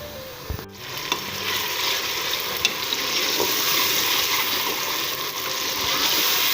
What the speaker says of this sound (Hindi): प्याज लाल हो चुका है, हल्का सा पानी का छिटा लगा दें तो भी ठीक है